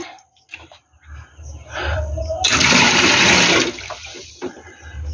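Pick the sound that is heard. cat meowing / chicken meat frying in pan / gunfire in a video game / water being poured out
water being poured out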